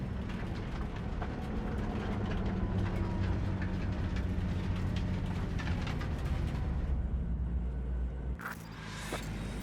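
A large train rumbles steadily in Cyberpunk 2077, a deep continuous roll of wheels on rails with faint clicks, heard close, then cut off by a short hiss and clatter near the end.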